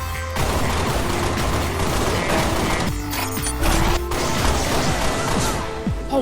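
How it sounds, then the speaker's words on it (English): Halo Reach game gunfire erupts in dense bursts of rapid shots and crashing impacts that run almost without a break, with a short gap partway through and no speech. "Open fire!"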